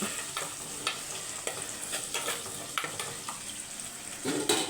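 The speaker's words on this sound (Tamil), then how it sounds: "வெங்காயம் வதங்கட்டும்" Onions sauté in a pan for a fish curry, a steady broadband sizzle with repeated scraping stirs of a utensil against the pan, close and fairly loud, no voices.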